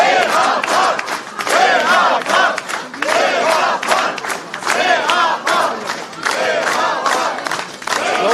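Crowd of waiting citizens loudly chanting and clapping in rhythmic waves to welcome Catholicos Garegin II, a dense, continuous roar of many voices close by with repeated surges.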